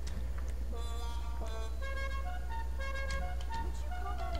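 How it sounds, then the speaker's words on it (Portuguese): A car horn on a tuned Pegassi Torero supercar in GTA V Online, honked as a series of short musical toots over a constant low engine hum, quick bursts following one another in an uneven rhythm. "Deixa eu botar uma buzina qualquer aqui."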